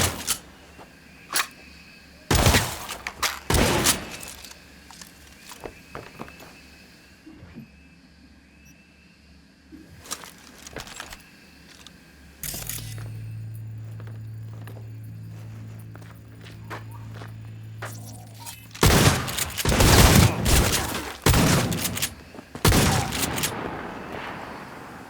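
Gunfire from Cyberpunk 2077 gameplay erupts in a few sharp bursts over a quieter stretch of footsteps and movement, with a low steady hum in between and a heavier cluster of shots near the end.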